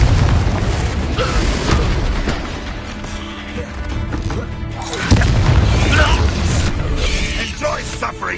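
Confringo explosion spell in Hogwarts Legacy, a heavy booming blast with crashing debris and a rumbling tail, loud and full, mixed with game music and a spoken spell incantation.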